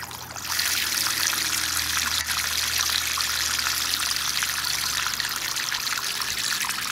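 Water flows steadily through a fine gold recovery bowl, a continuous close trickling and rushing that swells in at the start and then holds even and loud with no voices.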